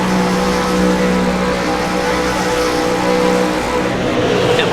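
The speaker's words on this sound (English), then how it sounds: "Here, lights are up, revs rise." V8 Supercars at Phillip Island revving their engines on the grid at the race start, a loud sustained droning roar of many engines with rising pitch, continuous and close.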